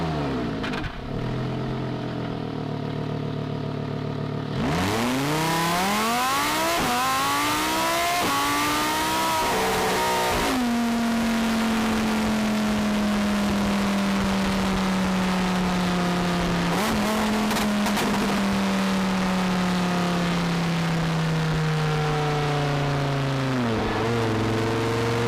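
A Lamborghini Huracan launches from idle into a hard 0 to 60 run, its engine roaring loud and close as revs climb through sharp rising sweeps with quick gear changes, then a long sustained pull.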